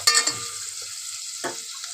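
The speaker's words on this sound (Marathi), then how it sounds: "मस्त आपण कांदा परतून घेऊया आता." Onion being sautéed in a pan, a couple of short stirring scrapes and a quick burst of sizzle up close, then a faint hiss settling in between, with no talking.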